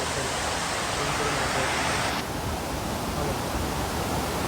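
Loud, steady roar of rushing water at Kamte dam in the Konkan, a continuous broadband wash that dulls slightly partway through.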